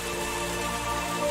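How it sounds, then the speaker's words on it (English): Steady free rain sound effect from Michael Gelfi Studios, a constant dense patter with background music mixed in, unbroken across the short stretch. "The rain and music are both from Michael Gelfi Studios"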